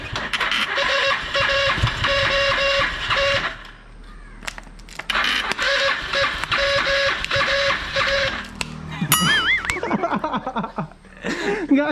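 A motorcycle with a run-down battery, jumped from a Bullet's battery, cranks without starting: two long, loud bursts of whirring starter-motor grind, separated by a pause, followed by brief voices.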